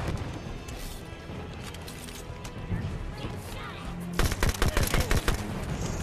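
Gunfire from the video game Halo 5: Guardians: a quick burst of loud, sharp shots near the end after quieter combat noise, with a voice talking during the fighting.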